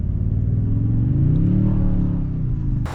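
A 2022 Toyota Tundra Limited TRD Off-Road accelerates, its engine a loud, close, low rumble rising steadily in pitch before easing near the end.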